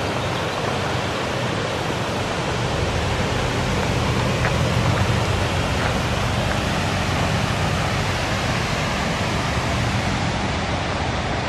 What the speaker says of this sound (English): this is the little dam or waterfall or whatever you want to call it